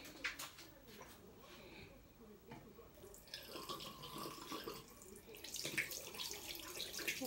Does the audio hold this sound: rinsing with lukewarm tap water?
yes